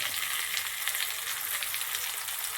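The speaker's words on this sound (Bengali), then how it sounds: "তেলটা গরম হয়ে গেছে, দিয়ে দিচ্ছি মটরশুঁটির কোপ্তা হবে আজ" Pea koftas sizzle in hot oil, giving a continuous, bright, hissing crackle that stays close and fairly loud throughout, with no talking.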